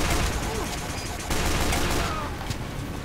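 A minigun in the Team Fortress 2 video game rattles in a dense, continuous burst of rapid fire amid chaotic battle noise, with voices faintly present.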